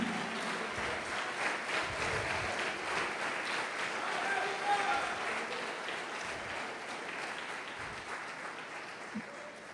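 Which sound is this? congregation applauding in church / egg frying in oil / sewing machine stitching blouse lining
congregation applauding in church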